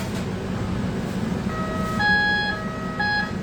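A kitchen timer beeps in a home kitchen during breakfast cooking, a few steady electronic tones sounding over low background hum, with no talking.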